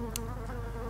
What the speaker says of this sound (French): je vous laisse un peu regarder ces abeilles qui sont organisées quand même